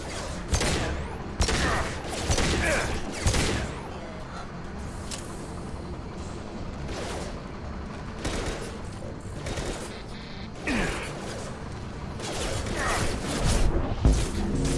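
Weapons firing in Mass Effect 2 on the hardest difficulty, repeated sharp bursts and single shots scattered through the stretch, some loud and close, others softer, over a steady combat background.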